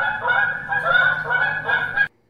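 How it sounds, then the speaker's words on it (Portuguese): A goose honks in a single sustained nasal call lasting about two seconds, close and clear, then stops abruptly. "Ganso."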